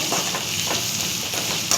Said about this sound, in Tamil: நல்லா வெங்காயத்தை பொன்னிறமாக வதக்கலாங்க